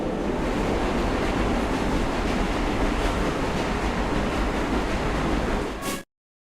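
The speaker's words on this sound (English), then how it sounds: "We have reached the end of the line where this train will terminate." A train rolls into the terminus in the video game Luna Abyss, a steady, loud broadband rumble of rails and carriage noise that holds evenly for six seconds before cutting off abruptly.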